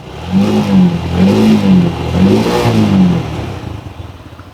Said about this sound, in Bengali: এ হচ্ছে বাইকটি সাউন্ড